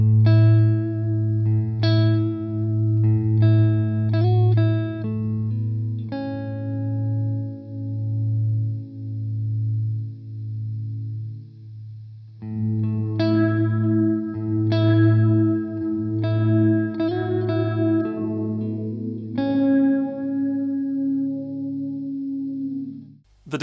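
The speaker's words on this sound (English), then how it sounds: "The third and final mode of the reverb is an opening low-pass filter." Guitar notes through a KMA Audio Machines Cirrus reverb pedal in its opening low-pass filter mode: plucked tones swell brighter and ring out in a long washy tail, two phrases with a gap, no talk.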